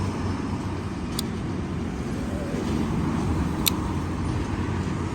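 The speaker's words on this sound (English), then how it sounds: "Lots of traffic going by because we're right at the ends of rush hour here." Rush-hour road traffic passes steadily nearby, a continuous broad rumble of cars and engines with no pauses, swelling slightly midway, with a couple of faint high clicks.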